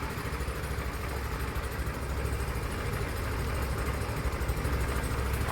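A Honda CD200 motorcycle engine idles just after start-up, with a steady, even low thrum throughout and no talking over it.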